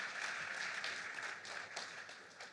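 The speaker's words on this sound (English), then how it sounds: "Round of applause for Mike" Audience applause in a local government meeting room, steady clapping from a crowd lasting a few seconds, moderately distant and even.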